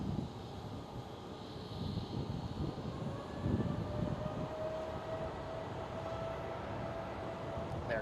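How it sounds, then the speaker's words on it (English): An Airbus A321neo airliner arrives at Schiphol Amsterdam, its steady engine roar rising slightly as it passes at a moderate distance, alone with no talk. "A321neo arriving"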